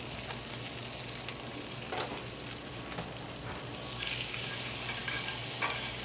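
Sweet corn, fennel and applewood smoked bacon sautéing in a hot pan for a grouper succotash, a continuous soft sizzle with occasional stirring scrapes that grows slightly fuller toward the end, no speech.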